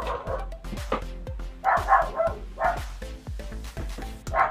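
A dog barks repeatedly in a steady run of loud, close barks, alone with no talk.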